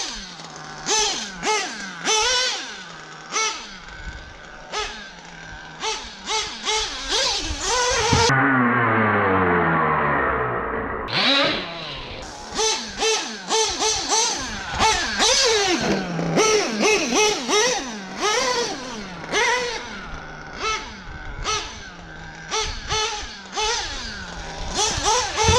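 A modified Novarossi nitro engine in an RC car, buzzing high and raspy at a fast idle with repeated sharp revs and blips, loud and close, plus one sustained high-pitched run in the middle.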